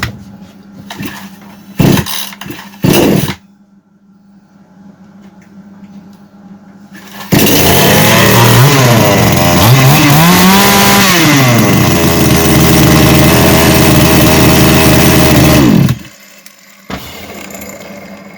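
A Kitprom petrol chainsaw takes a few short pull attempts, then starts and runs loudly for about eight seconds with revving pitch changes before it cuts out.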